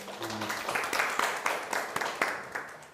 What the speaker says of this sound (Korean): 오케이, 박수.